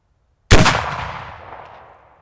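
A single sharp gunshot from a vintage rifle cracks loudly out of silence, then rolls away in a long fading echo lasting well over a second, with no voices.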